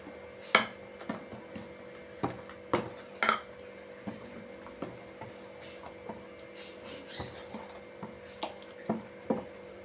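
Gram flour batter being stirred with water in a bowl, with repeated soft wet squishes and spoon taps against the bowl at an irregular pace, close and quiet, no talk.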